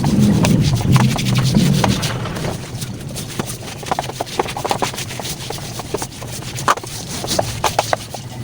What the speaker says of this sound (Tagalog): Mapan ko lang yan para matanggal yung dumi.